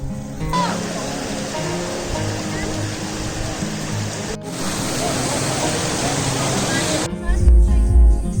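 Waterfall at the Cachoeira da Usina on a Guarda-Mor trail, a loud, steady broadband roar of falling water that fills the scene nearby, briefly dipping once before rising again.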